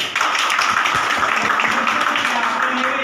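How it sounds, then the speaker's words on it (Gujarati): Audience at a political meeting in Chhota Udaipur claps steadily, a dense sustained patter of many hands from start to finish. "તાળી થવી જોઈએ"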